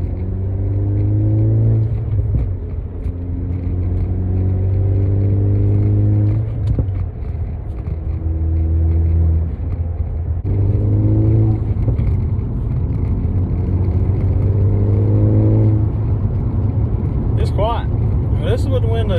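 A Ford Focus ST fitted with a CP-E Exhale kit and Tial blow-off valve drives with windows up, its engine a steady low drone rising and falling through several gear pulls, with a brief hiss near the end.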